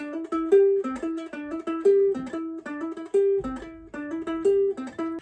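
A ukulele plays a bright, repeating melodic solo phrase alone, notes picked in a steady rhythm with short pauses between phrases.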